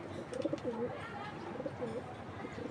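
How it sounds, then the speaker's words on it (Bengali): A pet pigeon coos in soft, repeated rounded phrases, quiet and fairly close, with a low murmur of background noise underneath. "এই যে কবুতরটি,"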